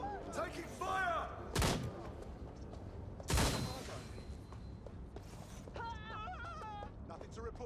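Gunfire in the Watch Dogs Legion video game, two loud sharp blasts with short echo standing out over game sounds, music and bursts of speech in the background.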